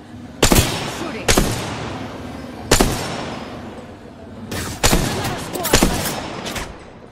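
Gunfire in the shooter game Apex Legends: six sharp, loud bursts of shots at uneven intervals, some in quick pairs, each with a short echoing tail.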